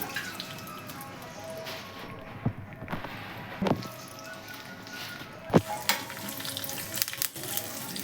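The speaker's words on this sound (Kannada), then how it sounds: "ಒಗ್ಗರಣೆ ಹಾಕೋತಾ ಇದ್ದೀನಿ ಒಂದು ಅಷ್ಟು ಎಣ್ಣೆ ಸಾಸಿವೆ ಸ್ವಲ್ಪ ಇಂಗು ಒಣಮೆಣ್ಸಿನ್ಕಾಯಿ" Mustard seeds, asafoetida and dry red chillies spluttering in hot oil for a tempering on a moong dal salad, a close, steady crackling sizzle broken by scattered sharp pops and clinks.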